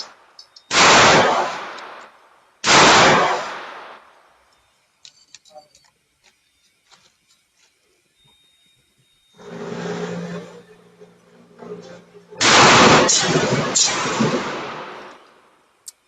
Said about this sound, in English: I have 3 shells of double buck left, so I'm going to finish them off and go a little faster.